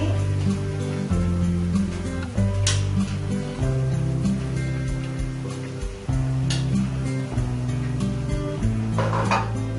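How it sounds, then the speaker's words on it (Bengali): Potatoes tumble into a pot of Bengali chicken jhol and are stirred in, with clattering pot and spoon knocks and scraping over a steady background hum, loudest in a few sharp clanks. "এখন দিয়ে দিব আলুগুলো।"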